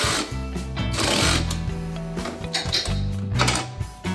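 A power driver whirs in short bursts while driving the last screw of a number plate on a Can-Am Maverick X3 UTV, its motor pitch rising and dropping with brief pauses between runs.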